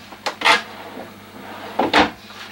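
Drawers in the bedroom of a 2019 Thor Quantum WS 31 RV slide and knock shut, two distinct close wooden clunks with faint rattles, about a second and a half apart, with no talk.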